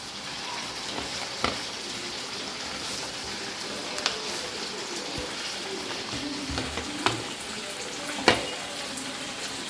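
Sardines shallow frying in a pan: a dense, even sizzle carries on without a break, close and fairly loud, with occasional sharp pops and spits of oil.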